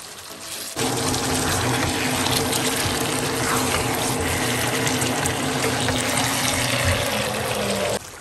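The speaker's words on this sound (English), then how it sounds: "We're putting the water from the kettle" Hot water from a kettle pours over lamb in a cooking pot as a steady, close liquid stream, starting abruptly and running for about seven seconds before stopping.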